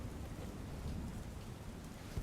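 A rain shower falls over eastern Ahmedabad, a soft, steady wash of rainfall that is faint and continuous for a couple of seconds.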